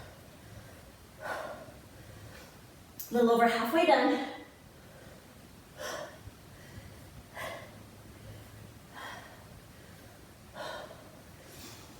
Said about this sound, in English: I can hear my breath echoing off the walls in here